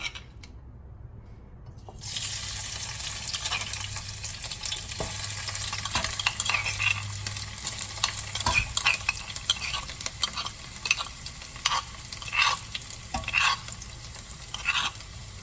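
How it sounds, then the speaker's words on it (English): Food dropped into hot oil for ampap (pinarasakan sada), sizzling steadily after a quiet start, with scattered clatter and stirring knocks over the frying. "Looks like the oil already hot, so let's put them."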